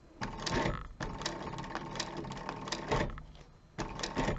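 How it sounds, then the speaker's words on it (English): A sewing machine works slowly, nearly stitch by stitch, attaching a zipper to a zip-around wallet, giving close rapid mechanical rattling bursts with short stops between them. "you want to slow your machine down and do one stitch at a time"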